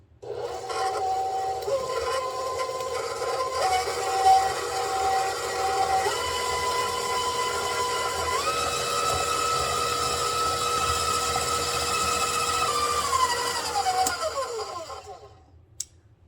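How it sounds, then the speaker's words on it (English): An electric mixer creams shortening with mashed sweet potatoes for cranberry butterscotch oatmeal cookie dough, its motor whining steadily and loudly, shifting pitch midway before winding down and stopping at the end. "we're just going to cream these together"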